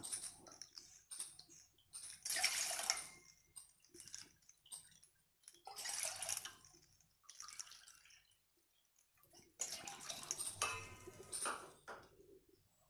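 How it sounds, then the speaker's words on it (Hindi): Water from a measuring cup is poured into a metal cooking pot in three separate splashing bursts, each a few seconds long and separated by quiet gaps. "इसके लिए मैंने ली है एक पतीली इसमें मैं डाल रही हूँ चार कप जितना पानी"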